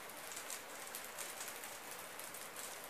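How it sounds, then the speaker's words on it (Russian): Hail patters steadily outside during a cold spell, a dense, even hiss of small impacts with faint brighter clinks, continuous and moderately distant with no voices. "Слышите, брякает? Это град,"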